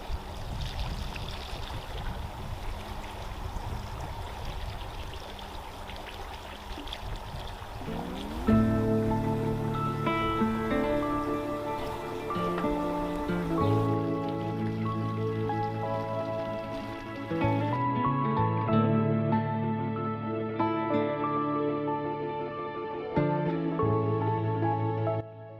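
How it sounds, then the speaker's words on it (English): Water splashes and trickles steadily into garden containers for several seconds, a soft, close, continuous patter, before music takes over. "And water these containers in real quick."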